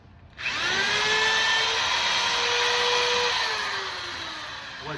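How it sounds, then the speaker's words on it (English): A power drill bores a hole into a block of Himalayan salt, starting abruptly and then running as a steady loud whine with a rising and falling pitch for several seconds. "I'm gonna drill the hole first."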